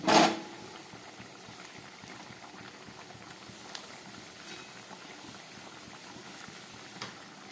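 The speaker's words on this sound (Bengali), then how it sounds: "আমার মাছের ঝোলটা ফুটে উঠেছে" Bengali fish curry (jhol) bubbles in a pan, a faint, steady low simmer with a brief louder clatter at the start and a few small pops, close by, no talk.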